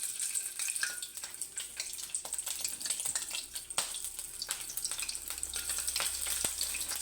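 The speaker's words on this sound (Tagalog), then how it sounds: "Piprito po ako ng" Tambakol (mackerel tuna) fish fries in a pan, a steady close crackle and sizzle with scattered pops and spits throughout, and no talking.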